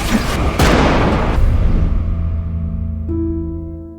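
A single loud gunshot from an old musket-style firearm in a naval battle setting, a booming blast with a long rumbling decay, a second crack following shortly after.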